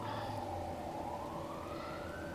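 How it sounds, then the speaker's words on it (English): Emergency vehicle sirens wail outside, faint and distant, one rising siren tone drifting over a steady background hum. "I don't know if you guys can hear the sirens, but they have been going crazy tonight."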